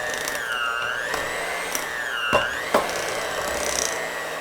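An electric hand mixer beats four bricks of room-temperature Philadelphia cream cheese for a cherry cheesecake, giving a steady whirring motor hum with shifting pitch and a couple of brief knocks against the bowl, close and continuous.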